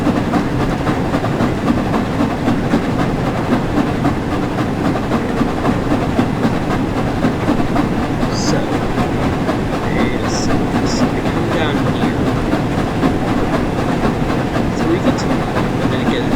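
The Flying Scotsman steam train runs along the quad-track East Coast Main Line in Train Sim World 4: a steady, loud rumble of wheels with continuous clickety-clack and a few faint high squeals.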